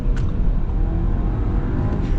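A 2023 Audi Q5 45 S Line under hard acceleration, a steady loud low engine drone and road roar heard from inside the cabin, with no talking.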